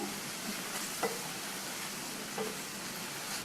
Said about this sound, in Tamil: இதுக்கு தேவையான அளவு உப்பு சேர்த்துட்டு மறுபடியும் நல்லா ஒரு தடவை மிக்ஸ் பண்ணி விட்டுக்கலாம்